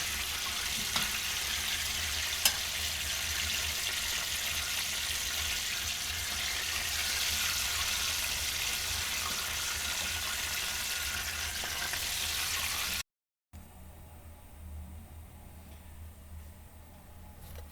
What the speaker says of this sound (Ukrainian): На самому слабенькому вогні. Щоб ледве смажило, щоб м'ясо просмажилось гарно.